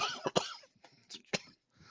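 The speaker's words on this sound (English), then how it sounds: "cough won't go away. It's driving me nuts." A few sharp, close coughs in quick succession, followed by quieter breathy throat sounds.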